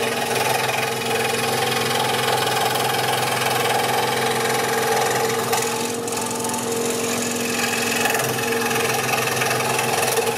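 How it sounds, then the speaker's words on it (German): A scroll saw cuts acrylic, running steadily for the whole stretch, a constant loud mechanical buzz with a faint grinding edge and no pauses. "säge ich jetzt noch mal diese wieder verklebten Stellen durch"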